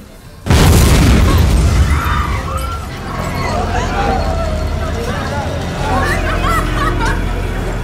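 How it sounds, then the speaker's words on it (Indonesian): A sudden loud explosion booms, followed by a lingering rumble and a chaotic mix of crowd noise and voices. "tiba-tiba terjadi ledakan besar yang seketika mengacaukan semuanya"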